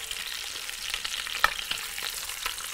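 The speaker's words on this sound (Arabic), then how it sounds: "يتحمروا برضو كم فص توم. وهنضيف البصل، بس تعالوا نقلب الاول" Garlic cloves frying in a pan alongside browning meat, giving a continuous close hiss of sizzling oil broken by occasional light scrapes and taps of a utensil as they are turned.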